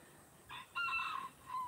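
A rooster crows in a backyard chicken run, one short faint call, fairly distant, standing alone against quiet background noise.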